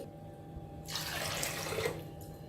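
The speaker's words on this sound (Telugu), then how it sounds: "ఇప్పుడు ఈ పచ్చిశనగపప్పుని ఒక 2 సార్లు శుభ్రంగా కడిగేసేసుకోవాలి." Tap water starts running partway through and gushes loudly into a vessel as chana dal is rinsed, a close, steady splash after a quieter start, with no voices.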